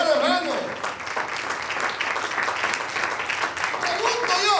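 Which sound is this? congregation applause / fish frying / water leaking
congregation applause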